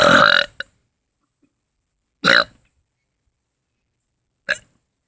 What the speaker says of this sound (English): I'm burping really loud.